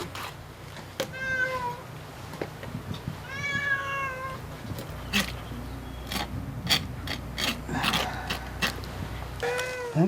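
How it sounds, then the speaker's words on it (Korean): Cats gather and meow at the smell of eel, giving several drawn-out, rising cries spaced across the stretch, mixed with clicking and clattering handling noises and a low background hum. "드릿한 장어 냄새에 고양이들이 모여듭니다"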